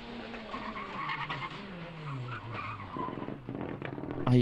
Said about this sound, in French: Problème de différentiel. La voiture est à l'agonie.